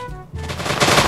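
A TNT explosion in the Minecraft video game, a loud burst that swells into a dense, crackling roar of blasts and keeps building to the end, with no talk over it.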